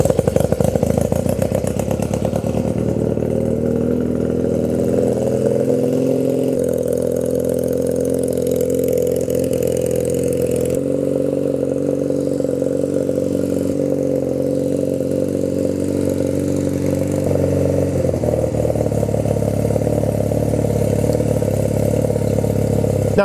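A Honda Rebel motorcycle engine starts and settles into a steady, loud idle close by, its carbureted single-cylinder-style rumble running continuously with a slight uneven lope as it warms on choke.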